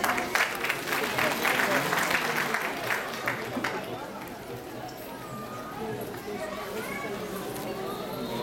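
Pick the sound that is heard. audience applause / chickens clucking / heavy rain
audience applause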